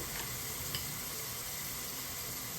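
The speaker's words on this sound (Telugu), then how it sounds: "ఇలా నూనె పైకి తేలి టమోటా ముక్కలు మొత్తం బాగా వేగాలండి" Tomato pieces and chili powder frying in hot oil in a pan for a country-chicken curry, giving a steady, dense sizzle throughout with a faint stir or scrape near the start.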